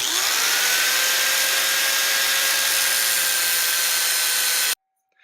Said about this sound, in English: You're going to take your angle grinder with a cutoff blade, which is the real thin blade, and you're simply going to cut where you marked the line